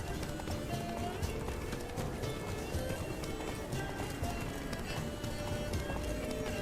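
Steady clip-clop of a galloping horse in Witcher 3, a rapid continuous rhythm with occasional whinnies, set against a busy game soundtrack.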